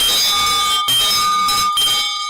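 A handbell borrowed from a school rings to open a morning devotion, sounding as a loud, close, continuous metallic ringing with bright sustained tones and short breaks between bursts of strokes.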